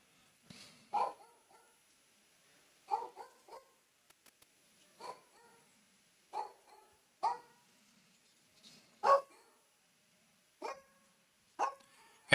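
Dogs bark at the neighbors in repeated sharp, separate barks spaced a second or two apart, fairly close and alone against a quiet background.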